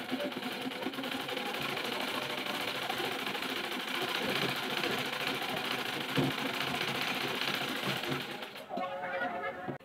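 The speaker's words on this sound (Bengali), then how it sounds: "আমার কিন্তু মেশিনে সুতাটা লাগানো আছে। তো এই অবস্থা আমি চালাই দেখাবো।" A threaded sewing machine runs steadily, its fast mechanical whirring and clatter continuing for most of the clip before stopping near the end, close and fairly loud.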